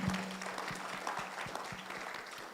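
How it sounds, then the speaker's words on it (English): An audience at a public lecture claps in a steady, even patter of many hands, quiet and a little distant, with a faint tonal hum underneath. "I think we need to clap for them."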